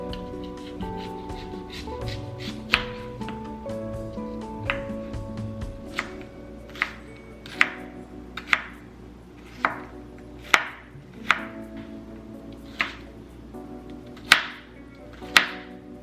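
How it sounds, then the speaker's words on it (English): A knife chops an onion on a cutting board, a dozen or so crisp, evenly spaced knocks over gentle background music, with no talking. "First, we're going to start by chopping our onion."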